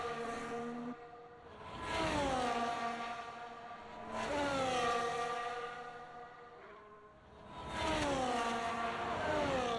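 Ferrari race car circling a circuit in a racing video game, its engine rising and falling through three revving passes with shifting gear pitches, loud and alone.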